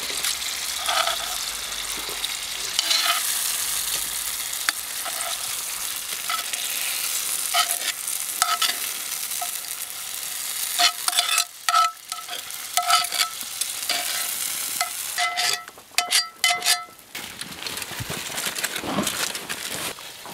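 Onions and peppers sautéing in a pan over a campfire: a continuous bright sizzle with frequent stirring scrapes and clatters, louder bursts of spatula activity toward the end, close by and with no one talking.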